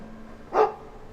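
A single short dog bark from the video game Dragon Age II, loud and close, standing alone against a quiet background.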